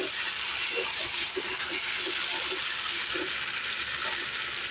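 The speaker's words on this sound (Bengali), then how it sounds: "তো মাংসটা ওই যে কষাচ্ছি এদিকে" Meat sautéing (kosha) in a pan, a steady broadband sizzle and hiss holding even throughout at a close, moderate level.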